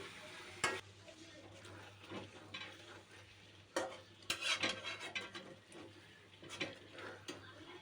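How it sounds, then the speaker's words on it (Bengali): Broiler chicken pieces being stirred in a thick red spice masala in a pan, with soft scraping, spoon clinks and a faint sizzle, fairly quiet and intermittent, without talk. "এবার আমি ভালো করে নেড়েচেড়ে মিশিয়ে একদম কষিয়ে নেব আর একবার ভালো করে"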